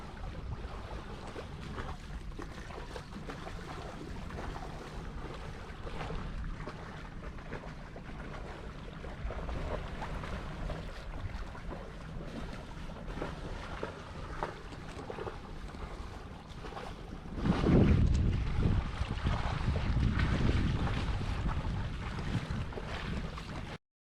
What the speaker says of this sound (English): but suddenly the wind picked up.